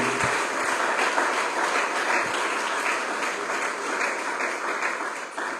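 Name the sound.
church congregation applauding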